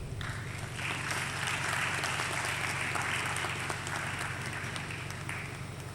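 Sustained audience applause at a graduation ceremony as a dance academy comes on stage, steady and full throughout, with a low hum running underneath.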